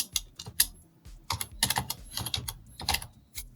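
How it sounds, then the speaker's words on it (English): Typing a prompt on a computer keyboard, irregular bursts of close, soft key clicks and taps with short pauses, quiet and without talk. "So here I'm going to type walking"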